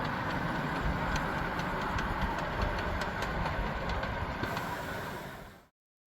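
A miniature live steam locomotive runs close by with a steady mechanical chuffing and rumble and faint rhythmic clicks, then cuts off abruptly near the end.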